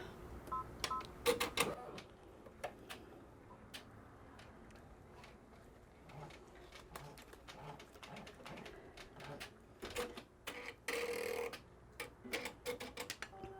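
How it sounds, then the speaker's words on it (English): An embroidery machine stitches down a small loop on a notebook cover tab, producing quiet rapid ticking and tapping bursts with brief louder rattles, close and without talk. "we're going to stitch it out to tack down that little loop."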